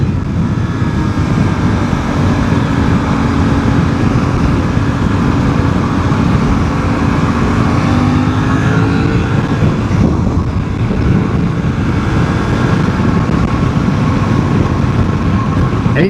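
Suzuki V-Strom 800DE motorcycle engine droning steadily while riding, a continuous buzzy hum under heavy wind rush from start to finish, pulling strongly at higher revs.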